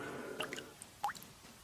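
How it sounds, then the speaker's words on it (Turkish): A few separate water drips plop one after another, small and close, against a quiet background. "Damlaya damlaya su birikiyor."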